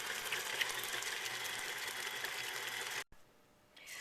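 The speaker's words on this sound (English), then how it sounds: "I just run my mixer on low and add in the egg and the extracts." An electric stand mixer with a paddle attachment runs on low through sugar cookie dough, making a steady whirring hum that cuts off abruptly near the end, leaving quiet room tone.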